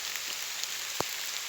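Rain falling steadily, a dense even hiss with one soft thud near the middle and no voices.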